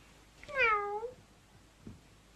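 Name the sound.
cat meowing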